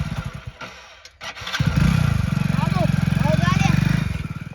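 A motorbike engine kicks into life after a brief pause, then settles into a loud, close, steady putter that runs to the end, with people talking nearby.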